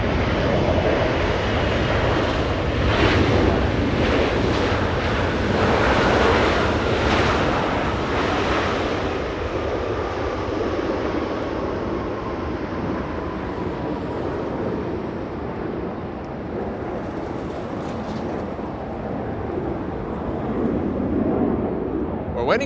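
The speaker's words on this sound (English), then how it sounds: "We're waiting for the 777, and there it is, slowing down on runway 24 right." A Boeing 777 lands and slows on runway 24 right at Los Angeles International Airport, its engines roaring loudly as reverse thrust swells, then easing into a lower rumble, with wind buffeting the microphone.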